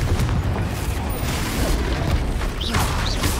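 An explosive Confringo spell blasts in a Harry Potter video game, a dull booming burst amid clattering in-game effects and a couple of short whooshing tones.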